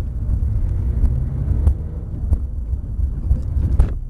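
A Porsche 997 GT3 RS phase 1 engine rumbles low and loud from close by, its deep throb swelling slightly with a few sharp mechanical clicks and pops scattered across a short stretch.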